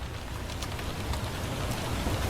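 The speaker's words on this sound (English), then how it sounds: "It does not sound lighter, but I assure you the rain is lighter." Steady hot-weather rain falling and pattering on surfaces nearby, a continuous dense hiss with scattered drop ticks, no voices.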